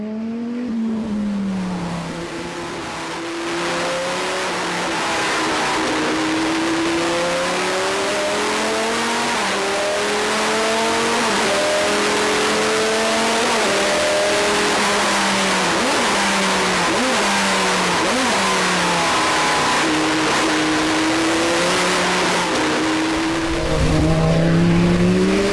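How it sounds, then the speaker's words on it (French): A Chrysler Viper GTS-R race car engine roars loudly close by, revving hard through repeated rising and falling pitch sweeps as it accelerates and downshifts, with a burst of throttle at the end and no talk. "Au rétrogradage, il aboie comme un vrai moteur de course."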